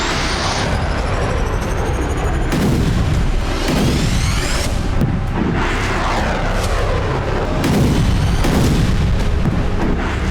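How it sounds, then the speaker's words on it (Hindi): HIMARS multiple rocket launcher attack in Ukraine: loud, repeated booming blasts and whooshing launches roll through a constant roar of noise, several heavy bursts spread across the stretch with no talk. "ये यूक्रेन के हाइमार्स मल्टीपल रॉकेट लॉन्चर हमले का वीडियो है।"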